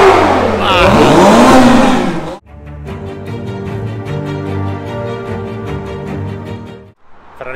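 Ferrari 812 GTS and 488 Pista Spider / 488 Spider engines roar and rev loudly, a sharp blip giving way to a sustained high-pitched V12 scream lasting several seconds, then cutting off, with a voice briefly exclaiming.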